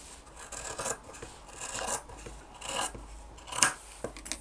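Scissors trim through fabric pockets in a series of close, crisp snips and rasping cuts, about four or five strokes in an uneven rhythm, with no one speaking.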